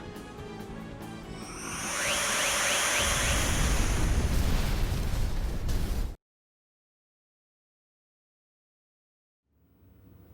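A facility explosion in the video game Star Ocean: Integrity and Faithlessness swells into a loud, sustained roaring blast, then cuts off abruptly to silence before a faint sound returns at the end.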